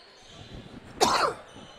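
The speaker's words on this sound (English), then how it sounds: "On-air sneeze." A commentator sneezes on air during a high school district championship basketball broadcast, one sharp loud burst breaking over faint arena background noise.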